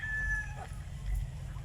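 A young hen about five to six months old and close to laying clucks briefly in a backyard flock, short calls over a low steady rumble of background noise.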